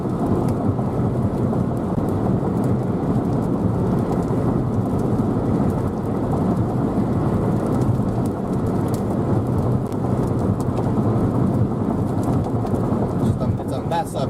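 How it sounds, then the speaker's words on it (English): Steady heavy rain pours through a thunderstorm in the southern storm-chasing country, with continuous low rumbling thunder under a dense, unbroken wash of rain noise from start to finish. "Hopefully that storm doesn't ruin it."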